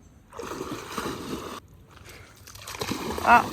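An Australian shepherd dog splashing in water outdoors, with steady sloshing and splattering that pauses briefly and then resumes, picking up again toward the end.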